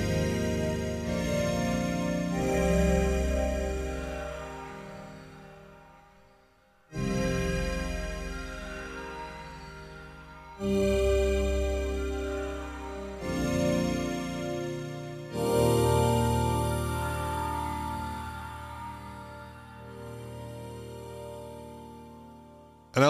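A Roland D-series synthesizer plays its Planet Scum patch, a dense buzzy pad sounded as a series of long held chords, each swelling in and cut off with short gaps, loud and alone.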